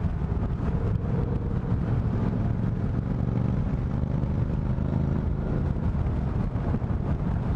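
A motorcycle with an opened-up exhaust rides along a test road, its engine giving a continuous loud rumbling roar mixed with heavy wind buffeting on the microphone.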